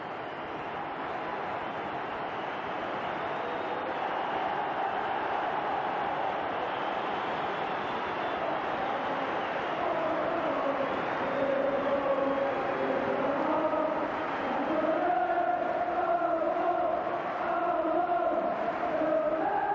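A 60,000-strong football crowd at Celtic Park roars for the Liverpool players, a dense, sustained wash of cheering that swells into rising chants and whistles in the second half.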